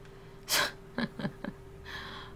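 A character sneezes in The Vanishing of Ethan Carter: one loud, sharp burst followed by a few short, quieter snorts and sniffs. A faint breath comes at the end over a low, steady game background.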